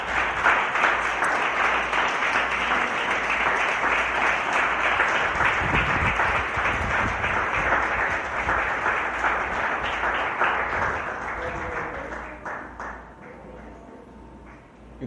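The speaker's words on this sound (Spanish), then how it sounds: "Denle un aplauso por favor al Señor mientras tomo agua." Audience applause at a church sermon, long sustained clapping from a sizable crowd that gradually thins and fades toward the end.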